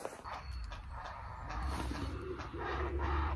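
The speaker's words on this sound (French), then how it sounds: "Les hérons ils font un bruit de fou." Herons call repeatedly in the distance in the Baltic states, low hoarse croaking cries rising over a steady background noise.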